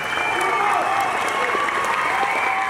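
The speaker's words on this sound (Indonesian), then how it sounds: "Tepuk tangan Rio penonton, mantap, bro." Football spectators in a stadium applaud in a dense, steady wash of clapping with crowd noise, loud and continuous throughout.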